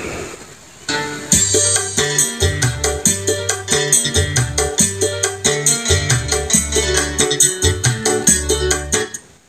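Music played from a PC through a Crimson active speaker. A steady rhythmic track with punchy, regular beats and chords plays loudly and continuously, with no talking over it.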